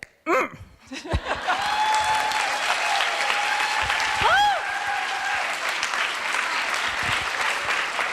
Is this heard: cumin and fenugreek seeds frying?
no